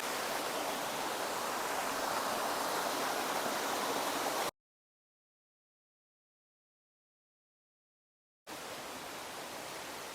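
Raikal waterfall in Telangana gives off a loud, unbroken rushing roar of falling water. The roar cuts to total silence for several seconds, then returns just as strong.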